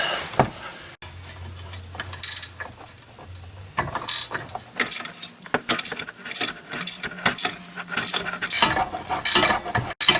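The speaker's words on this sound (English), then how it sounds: "I have the 18 millimeter wrench, ratcheting wrench on the large nut" An 18 mm ratcheting wrench works a large nut on the sway bar of a GMC Acadia, producing irregular metallic clicking and ratcheting bursts with clanks and shifting, close and fairly loud.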